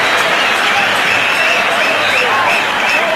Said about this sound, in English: Buzz around the crowd.